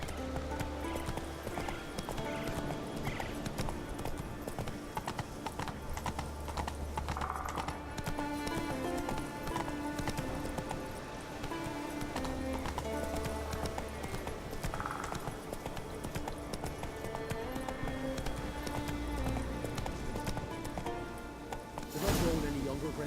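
A horse galloping in The Witcher 3: Wild Hunt, rhythmic hoofbeats pounding steadily and close for the full stretch, with a brief whinny and talking heard over it.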